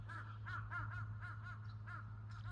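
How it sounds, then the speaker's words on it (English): Crows caw outdoors in a steady series of about eight harsh calls, fairly faint and somewhat distant, with low background hum. "they are not the crows from my neighborhood"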